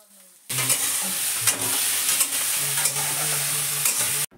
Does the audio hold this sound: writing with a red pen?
no